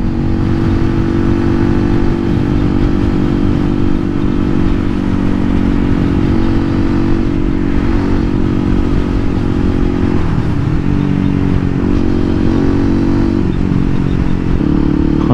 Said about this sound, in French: Je mets un mini filet et ça pétarade déjà.